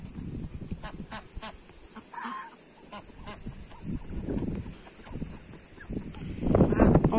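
Ducks and Muscovy ducks on a small farm with a pond, giving scattered quacks and honking calls that grow louder and denser toward the end, over outdoor background noise with a person talking intermittently.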